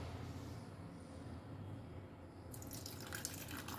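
Water from a tap runs steadily into a semolina and yogurt batter, a continuous close splashing trickle that brightens toward the end.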